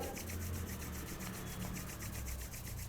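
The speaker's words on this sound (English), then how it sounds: "rub your palms." Steady dry rubbing of two palms pressed together during a yoga relaxation exercise, a continuous close friction swish with a rapid back-and-forth rhythm, no talking.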